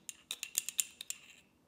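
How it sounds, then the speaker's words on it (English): A hardened crust of crystallized sugar on top of a glass of rock candy syrup is tapped lightly, giving about ten small, sharp, glassy clicks in an irregular rhythm, quiet and close. "you are going to slowly start tapping the sugar that has formed at the top of your glass"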